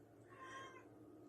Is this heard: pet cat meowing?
yes